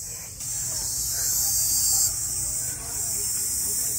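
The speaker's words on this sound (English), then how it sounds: "Those are major cicadas." Loud, continuous high-pitched cicada buzzing at Staniel Cay in the Exumas, Bahamas, a steady shrill drone that barely wavers.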